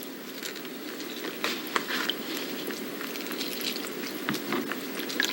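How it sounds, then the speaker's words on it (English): Water poured into a bottle containing leaves gives a soft, faint, steady patter and trickle that runs throughout, with no talking. "So I'm pouring the water in."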